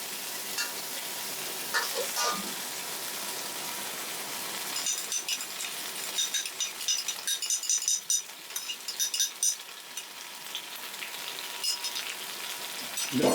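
Egg noodles fry in oil in a pan, with a steady, close sizzle. Scraping and clinking stir sounds break through now and then, and speech is barely present.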